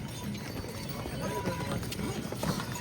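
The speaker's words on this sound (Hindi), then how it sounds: "घोड़ा आ गया" Horse hooves clip-clop along a mountain path on the Kedarnath route, a steady patter mixed into busy outdoor noise, with people talking nearby.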